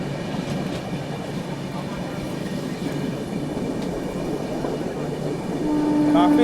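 An Indian Railways summer special passenger train rolls along with a steady, loud rumble and faint rail clatter, swelling slightly near the end as a horn-like tone sounds.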